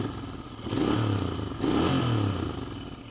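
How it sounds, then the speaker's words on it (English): A Royal Enfield parallel-twin motorcycle with a 270-degree crank revs up twice in close succession, each throttle blip rising to a loud, throaty burst before settling back, heard close by with some mechanical clatter. "Nice classic parallel twin sound out of this."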